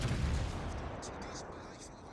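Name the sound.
ship gunfire in World of Warships video game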